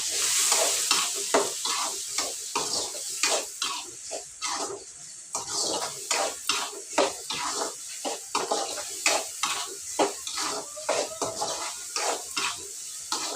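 Gongura mutton curry is stirred in a sizzling pan, with a steady run of close spoon scrapes and clinks over a constant frying hiss, and no talking.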